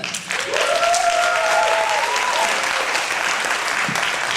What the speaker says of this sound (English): Let's hear it for co-producer, writer and star John Fallon